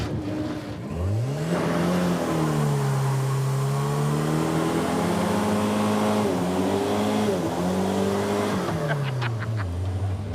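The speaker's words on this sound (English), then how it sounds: "It does 2 burnouts." A small car doing burnouts at a drag strip: loud engine revs climbing and dropping in repeated sweeps with tire squeal, close and continuous, ending with a few sharp bursts.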